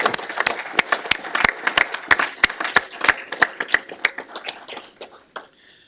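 Attendees at a McLean County Board meeting applaud in a meeting room: a loose round of individual claps, sharp and distinct rather than dense, tapering off over several seconds.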